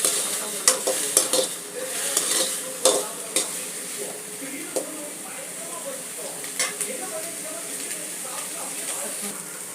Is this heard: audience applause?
no